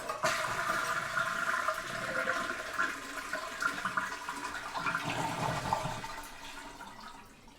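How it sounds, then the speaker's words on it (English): A toilet flushes to drain its tank during repair of a leak, a steady close rush and gurgle of water that holds throughout and begins to thin out toward the end. "we need to drain all the water out of the tank just by flushing it."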